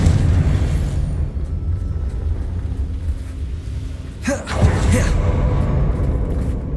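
Confringo blasting spell explosions in the Hogwarts Legacy video game, two bursts near the middle of the clip erupting over a constant low rumble of game ambience.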